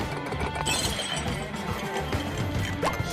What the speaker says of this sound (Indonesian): satu persatu barangnya rusak dan hancur tak karuan